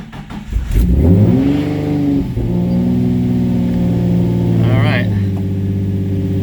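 A 2005 Infiniti G35 Coupe engine cranks and catches, then revs up and settles into a steady idle hum, close and loud, with a short voice near the end.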